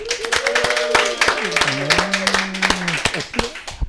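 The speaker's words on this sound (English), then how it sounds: "A round of applause for the guy with the bold statements." An audience at an XR industry speakers' event claps and cheers in a dense round of applause, with whoops and shouting voices mixed in across the crowd.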